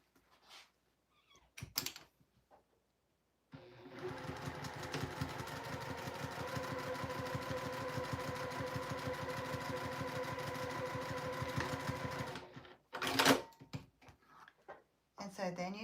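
Sewing machine stitching a fabric seam on a Santa caddy, a fast steady mechanical whirr with rapid needle rhythm lasting several seconds, framed by quiet handling noises and brief clicks before and after.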